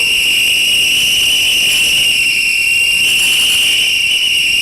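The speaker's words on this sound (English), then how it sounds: "I'll allow you blow your whistles. Blow them the loudest you can" Many whistles are blown at once by a rally crowd, a loud, continuous shrill tone that holds steady without pause throughout.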